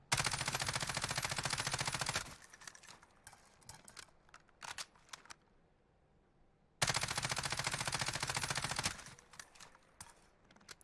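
Rapid automatic fire from a Ram 7 rifle fitted with a Merc foregrip in Warzone, shot at targets: two long sustained bursts about two seconds each, loud and close, with a few scattered single shots and clatter between them.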